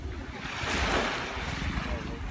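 Surf washing onto a clean tropical beach on Koh Phangan, a broad steady roar of breaking waves with wind buffeting the microphone, fairly loud and continuous.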